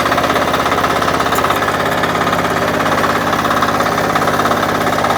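A KAMA 12hp power weeder engine runs in gear, close and loud, with a steady, rapid, knocking chug throughout and no talk.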